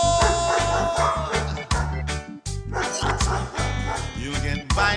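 Dogs bark and yelp repeatedly over a loud, pounding music track with a heavy bass beat, the barks blending into the dense mix throughout.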